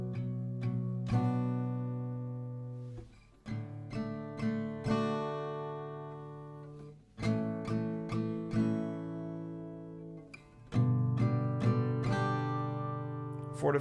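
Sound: acoustic guitar strumming down strokes

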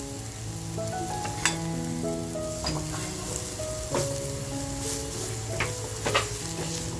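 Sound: frying masala with turmeric and salt in a pan

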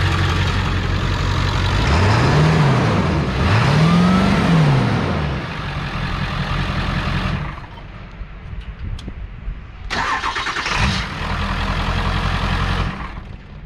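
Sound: work truck engine running with a hole in the muffler

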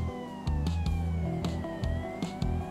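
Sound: police emergency vehicle siren tones, LSPDFR video game

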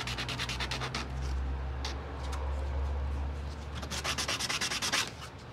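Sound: belt grinder sanding a wooden handle

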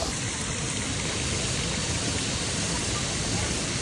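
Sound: waterfall near a Bali villa pool

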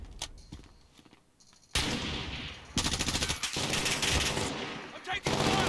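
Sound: gunfire from the video game Call of Duty: Warzone

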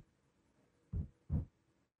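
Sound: low toms with very fast decay

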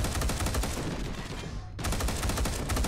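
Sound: video game gun firing in double-shot bursts

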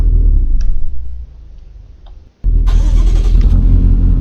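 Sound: car engine starting, from a video game

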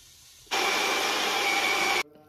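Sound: blender making juice of green apple, spinach and cucumber

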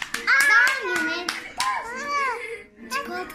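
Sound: clapping at a birthday

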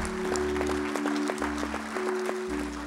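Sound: church congregation hand clap of praise

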